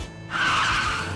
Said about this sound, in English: Grab vehicle moving in.